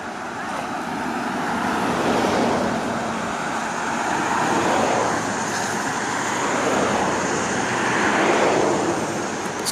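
Cars on a main road near Sliding Rock, North Carolina, a steady broad rush of passing traffic that swells and fades, blended with water and wind noise, no talking.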